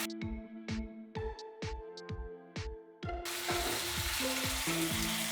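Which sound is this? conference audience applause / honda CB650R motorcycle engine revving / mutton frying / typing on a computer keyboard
mutton frying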